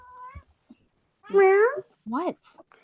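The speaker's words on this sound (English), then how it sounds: "Let's see this little action cat." A cat meows a few times up close, with short tonal cries separated by brief pauses, and a voice is heard faintly at the start.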